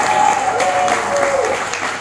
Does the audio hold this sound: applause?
yes